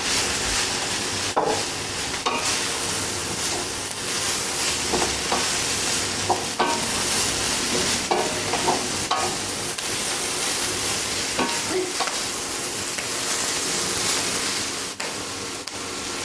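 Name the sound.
mushrooms frying and being stirred in a pan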